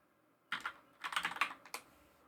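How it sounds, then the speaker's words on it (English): Typing on a computer keyboard, switching between Persian and English input: a short burst of keystrokes, a pause, then a rapid cluster of clicks and a final tap, close and clear with no talking. "just start typing Persian"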